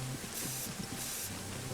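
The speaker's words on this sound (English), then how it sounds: "Spray paint's good to mark when you've cleared buildings" Two short hissing bursts of spray paint being sprayed in the video game Arma 3, evenly spaced over a constant low background rumble.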